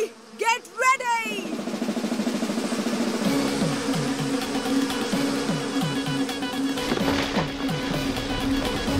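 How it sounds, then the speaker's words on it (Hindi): A cartoon swarm of bees buzzes steadily and densely for several seconds, with brief voices at the start. "मधुमक्खियों को पता नहीं हमसे क्या बैर है।"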